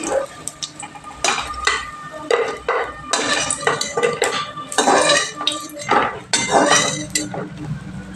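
Fried masoor dal fritters lifted from oil in a kadai, with repeated metallic clinks and scrapes of a spatula against the pan over a faint sizzle.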